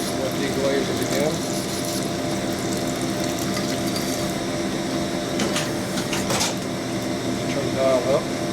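A cylinder hone deglazes a Harley Evolution cylinder bore, giving a steady whirring, grinding drone that runs unbroken and loud throughout at close range, with a few scraping accents.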